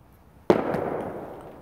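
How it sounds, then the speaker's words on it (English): A single firework bursts with a sharp, loud crack, then a crackling rumble fades away over the next second. It goes off during a New Year's balloon-popping game. "That was fireworks."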